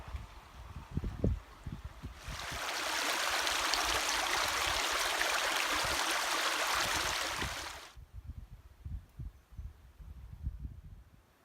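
Clear mountain stream in a Snowdonia valley near Dolwyddelan, a steady close rush of flowing water that swells in for several seconds and then drops away, with footsteps and handling noise before and after.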